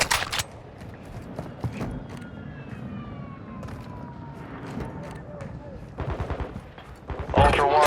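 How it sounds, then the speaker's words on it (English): Gunfire in Call of Duty Modern Warfare II multiplayer, with bursts of automatic fire and single shots over a rising siren-like whine, near and loud, and game voices talking in between. "You are taking effective fire."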